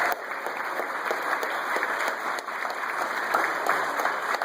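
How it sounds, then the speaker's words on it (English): A seated training-session audience at a Toastmasters TLI event bursts into sustained, even applause for first-time attendees, a dense wash of many hands clapping continuously without pause. "give these people a round of applause"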